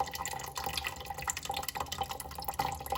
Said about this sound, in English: A little bit of water draining out from the esky.